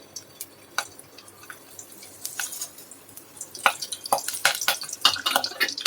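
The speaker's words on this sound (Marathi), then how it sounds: "तेल आता तापलं आहे, त्याच्यामध्ये आपण टाकूया कढीपत्ता." Curry leaves go into hot oil for a kaleji recipe and set off crackling spits and pops. These start sparse and quiet, then grow into a dense, louder sizzle toward the end, and no one speaks over them.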